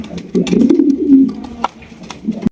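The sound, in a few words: racer and satin pigeons cooing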